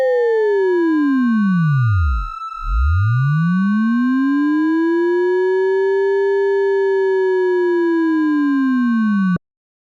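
A smooth riser built in Ableton's Operator synthesizer sweeps down, drops out briefly, then rises and holds a steady pitch before cutting off abruptly, with faint high harmonics above.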